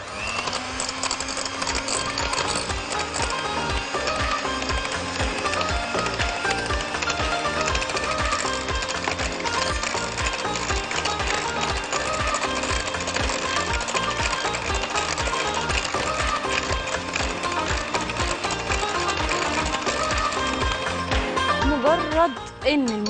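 An electric hand mixer beats hot-water cake batter on its lowest speed, a steady mechanical whirring with a rapid rhythmic rattle running loud and close for the whole stretch, with music playing underneath.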